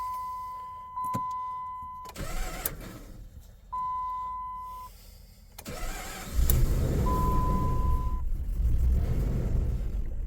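A 2005 RAM 1500 with a 5.7L HEMI engine cranks and starts, with repeated electronic warning chimes between cranking attempts, then the engine catches and settles into a loud, rough idle.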